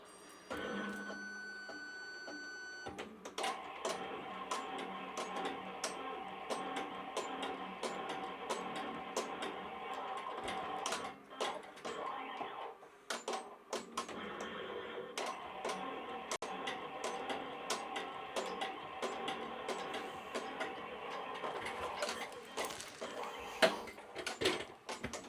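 An embroidery machine stitches a test pattern with a steady, rapid mechanical chatter of needle strikes, running continuously for about twenty-five seconds after a brief quieter start, with no talk.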